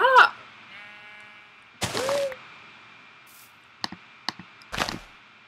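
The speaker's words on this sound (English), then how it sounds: "I just see so many sheep" Sheep in the Minecraft video game give a short, clear bleat at the start and another partway through, with sharp clicks and thuds of game actions in between over a quiet background.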